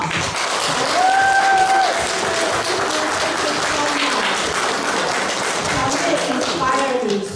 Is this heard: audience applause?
yes